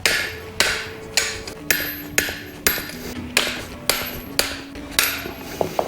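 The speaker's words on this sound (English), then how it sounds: "So I'll take the spanner and loosen this off." A spanner loosens the coilover strut collar on a 2008–2014 Subaru WRX sedan, struck about ten times in a steady rhythm of sharp metallic knocks, each ringing briefly before the next.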